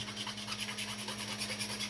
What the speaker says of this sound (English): So I just use one of these files, knock all the heavy burrs off and kind of clean up the edges